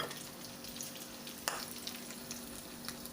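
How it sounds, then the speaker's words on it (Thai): Thai omelette (khai jiao) frying in hot oil in a pan, a steady close bubbling sizzle with crackling spits throughout and one sharper pop midway. "มันเดือดเลย หอมมากเลยครับ"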